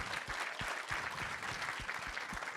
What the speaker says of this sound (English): Give a round of applause, by the way, Miss Alice Johnson